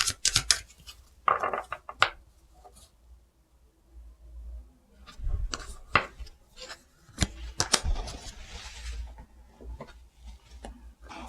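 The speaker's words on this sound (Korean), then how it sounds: "연애운을 위한 로맨스 엔젤 카드 셔플하고 또 뽑아볼게요" Romance angel oracle cards shuffled by hand, close and crisp, with bursts of riffling and sliding card sounds separated by brief quiet pauses.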